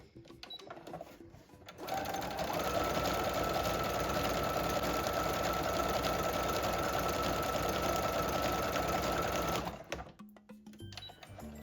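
Sewing machine running a zigzag stitch at the default width of 5, a steady mechanical whir and clatter for about eight seconds, starting and stopping cleanly against a quiet room.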